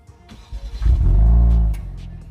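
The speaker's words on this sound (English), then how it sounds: "Let's just wait for the car to start. Let's get the exhaust note too." A 2022 Genesis G70 starts up with a brief crank and then a deep, swelling exhaust rumble that settles back into a lower steady idle, heard up close.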